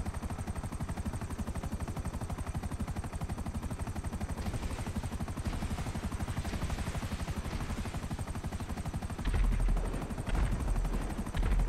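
Helicopter in GTA Online flying overhead, its rotor chopping in a steady rapid thud that stays loud and constant, with a few heavier bumps near the end.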